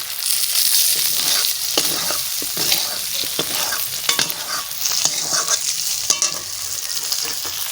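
Quail egg curry fries and sizzles in a pan while being stirred, with steady loud crackling and repeated scraping strokes of the spoon throughout, no voices.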